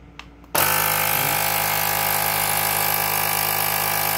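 A portable electric air compressor kicks on abruptly after a brief quiet moment, then runs as a loud, close, steady mechanical drone with no speech over it.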